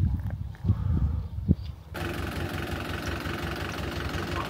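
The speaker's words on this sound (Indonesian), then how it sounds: "Ini mesin yang dipakai untuk menyemai bibit kedelai." A soybean seed sowing machine's engine drones steadily at a village on the far northern China–Russia border. It starts partway through, after low rumbling and handling noise, and runs with a close, continuous idle and a faint knock.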